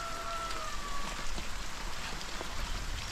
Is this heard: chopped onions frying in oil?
no